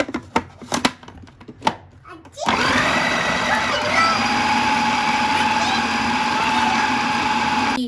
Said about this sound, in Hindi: अब इसको हम चॉपर में चॉप कर लेंगे